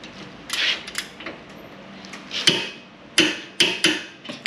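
A big torque wrench clicking on a bolt during a full VB air suspension install on a Swift Carrera campervan, several sharp metallic clicks and taps near the end, with quieter workshop knocks before.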